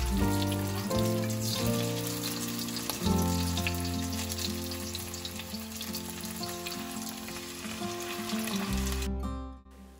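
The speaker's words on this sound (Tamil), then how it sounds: "எண்ணெய் நல்லா சூடானதுக்கப்புறம் பரட்டி வச்சுருக்க மீன் எடுத்து நம்ம வறுக்க ஆரம்பிச்சிடலாம்" Marinated fish fries in hot oil in a pan, giving a steady, close crackling sizzle with dense popping throughout, over a low background hum, and the sizzle cuts off abruptly near the end.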